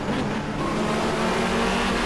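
Touring car engines from the 1994 GTR2 Asia-Pacific Touring Car Championship, heard from an onboard camera with a Hyundai alongside, roaring steadily at high revs throughout, loud and close with a constant drone.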